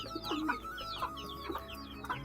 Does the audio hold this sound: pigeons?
yes